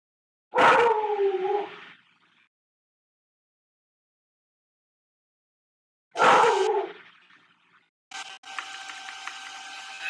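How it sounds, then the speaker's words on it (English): Dogs barking and howling, two separate drawn-out howling bursts a few seconds apart, close and fairly loud with silence between, followed by a quieter mechanical clicking background. "I don't know what they're barking at down there"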